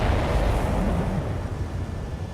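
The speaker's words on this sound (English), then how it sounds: "Did you see that explosion?" Explosion in the Ace Combat 7 combat flight game, a loud sustained roaring rumble with dense low-end boom that holds steady and slowly fades over a couple of seconds, no talk over it.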